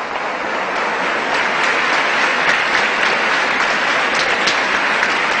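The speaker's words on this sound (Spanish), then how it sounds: "Aplausos" A large crowd at a university gathering in Havana applauds loudly and steadily, a dense wash of clapping that holds without pause from start to finish, with no voices standing out.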